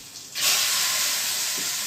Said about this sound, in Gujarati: હવે લસણ છે ને ખાસ વઘારમાં મૂકું છું.